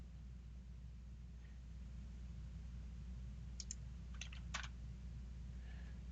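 Several sharp, faint computer mouse clicks come in a short cluster near the end over a constant low electrical hum, with no voices.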